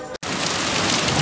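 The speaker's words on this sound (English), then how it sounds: "boy, do we have the rain" Heavy rain pours steadily during a storm, a dense loud hiss filling the whole stretch after a brief cut near the start.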